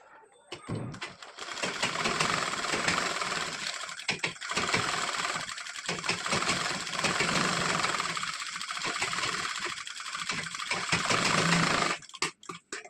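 Sewing machine stitching a four-tuck blouse, a close, steady mechanical whirr running in bursts of several seconds, with brief pauses between runs and a few clicks near the end.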